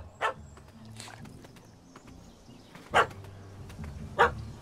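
A dog barks in The Witcher 3, three or four sharp, loud barks spaced apart over low background ambience.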